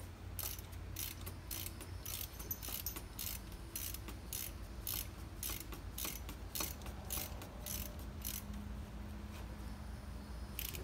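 A hand ratchet turns a spark plug loose on a 2004 Ford Mustang V6, giving rapid repeated clicking strokes in an irregular rhythm that continue close up throughout, with no talking.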